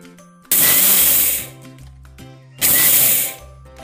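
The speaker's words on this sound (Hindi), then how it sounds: "तो बाजरे को हम 2 से 3 बार में थोड़ा थोड़ा डाल करके पीस लेंगे।" A kitchen mixer grinder grinds soaked pearl millet (bajra) in two loud, short bursts, each roaring for about a second before winding down, with quiet pauses between.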